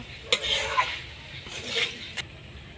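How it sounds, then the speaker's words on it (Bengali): Fried soybean chunks, potato and pointed gourd are stirred in a pan, giving soft scraping swishes and a few sharp utensil knocks over a faint low sizzle, close by. "এবার ওর মধ্যে আমি ভেজে রাখা সয়াবিন, আলু আর পটল দিয়ে দেব। দিয়ে ভালো করে কষিয়ে নেব।"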